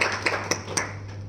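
A few scattered hand claps ring out at a talk on stem cells, four or so sharp, evenly spaced slaps, fairly faint, over a steady low hum.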